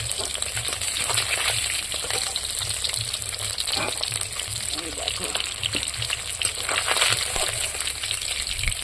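Fried rohu fish pieces come out of a pan of oil onto a plate under a loud, unbroken sizzle, with faint scrapes and light clinks scattered through it.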